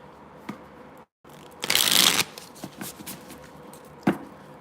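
An Everyday Tarot card deck is shuffled by hand, giving a dense riffling burst in the middle, framed by scattered soft card taps and slides, close and fairly quiet.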